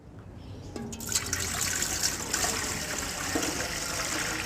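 Water is poured into a cooking pot set on a stove, a steady splashing, gurgling fill that runs continuously and close up, with no talking over it.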